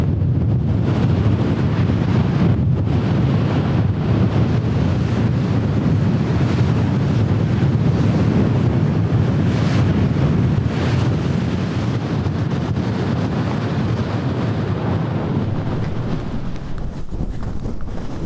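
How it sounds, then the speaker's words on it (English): A small waterfall splashes on a volcanic slope near a sulphur vent, a steady loud rush of water mixed with gusting wind on the microphone, continuous throughout with no talking. "Oh, little waterfall"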